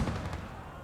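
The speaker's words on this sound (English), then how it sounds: "we got him with a nade" A grenade explodes in the video game Gates of Hell: Ostfront: one sharp, loud blast at the very start that fades into a low, rumbling tail, with no talking.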